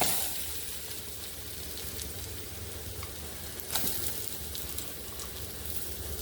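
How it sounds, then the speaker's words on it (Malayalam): Steady soft sizzling and crackling of grated coconut frying in oil over low heat, a continuous hiss with a few louder pops, no voices. "ഇത് ചെറിയ ചൂടിൽ ഇങ്ങനെ വറുത്തെടുക്കണം കേട്ടോ"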